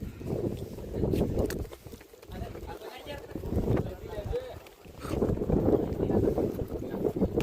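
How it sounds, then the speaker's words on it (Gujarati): Strong, cold wind gusts steadily outdoors, roaring and buffeting close against the microphone in rising and falling surges, with a voice talking underneath. "પવન આવે ઠંડો ઠંડો જોરદાર"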